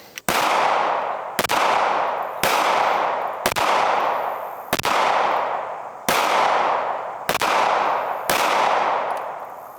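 Eight loud, sharp rifle shots from a .223/5.56 fired at an outdoor steel target, evenly spaced about a second apart, each crack trailing a long ringing decay, with no talking.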